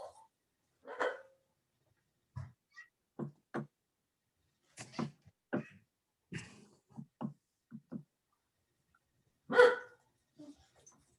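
A dog barks in protective mode indoors, a series of short sharp barks in irregular bursts with pauses between, fairly close and clear, with one louder bark near the end.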